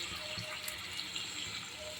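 Water streams steadily into a pot of Andhra-style fish curry, a soft continuous pouring and running sound, faint and close, with no talking.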